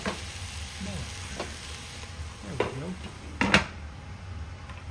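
Onions are stirred in a pot over a soft frying sizzle, with a few metallic scrapes and clinks and a sharper clatter near the end as a lid is set on; a voice talks quietly in the background.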